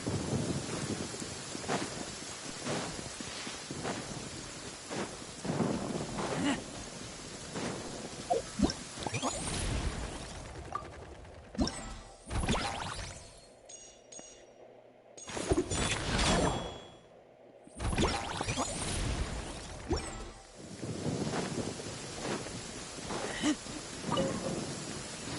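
Thunderstorm with rain in the video game Genshin Impact: steady rainfall patters throughout while several loud rolling thunder cracks boom in, with brief quiet gaps between them.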